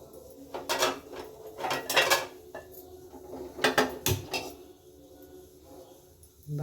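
A metal frying pan is handled and set down on a stovetop before tempering, several loud clanks and scrapes in quick succession, then quieter rattling.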